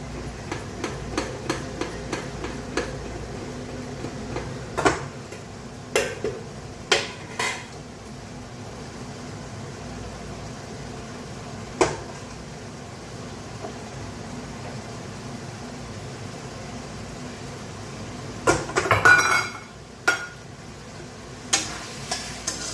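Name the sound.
mixing rice with salt in a pot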